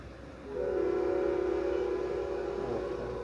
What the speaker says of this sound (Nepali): कस्तो हर्न लगायो फेरि।